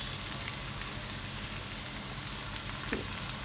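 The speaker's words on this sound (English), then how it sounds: "now I'm gonna add the garlic and then we are gonna cook it for 2 minutes" Garlic fries in a pan for a vegan spaghetti bolognese, a steady close sizzle with fine crackling pops running evenly throughout, with no speech.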